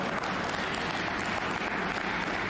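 A snooker crowd at the German Masters in Berlin applauding, a dense continuous wash of clapping from a large audience, loud and steady throughout.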